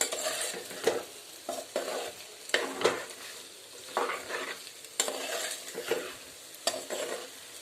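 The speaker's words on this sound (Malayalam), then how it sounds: "അരിഞ്ഞു വെച്ചിരുന്ന കാപ്സിക്കം സവോള ഇവ ചേർത്ത് വീണ്ടും ഇളക്കി കൊടുക്കുക" Chopped capsicum and onion being stirred as they fry with soya chilli, with repeated rhythmic scraping strokes over a constant sizzle, up close and fairly quiet, with no speech.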